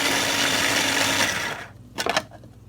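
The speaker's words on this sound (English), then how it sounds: "I'll just cut them up a little bit and put them in this little food processor." A small food processor chops carrots in a loud, dense whirring buzz for about a second and a half, then cuts out, followed by a couple of short rattling clatters of pieces settling.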